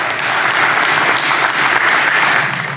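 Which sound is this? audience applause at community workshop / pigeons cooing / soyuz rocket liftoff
audience applause at community workshop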